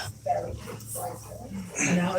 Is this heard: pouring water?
no